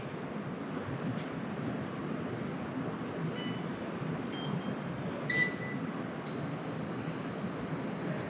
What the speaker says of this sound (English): Listening for the beeps.